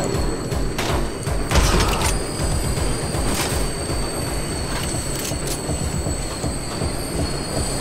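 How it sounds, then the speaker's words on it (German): Subway trains run past in the video game Anger Foot, a continuous loud rumble with squealing wheels, metallic clatter and a sustained high whine, with no voices over it. "U-Bahn, die auf und ab fahren."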